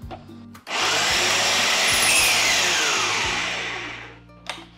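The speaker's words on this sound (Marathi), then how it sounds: "आणि हेही मिक्सरमध्ये एकत्र करून घेऊयात।" A mixer grinder starts up and whirs loudly for a few seconds, its motor churning roasted dry fruits, then winds down and stops.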